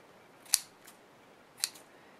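Scissors snip through a yarn loop on a handmade Halloween ghost decoration, giving two crisp, close cuts about a second apart in an otherwise quiet room.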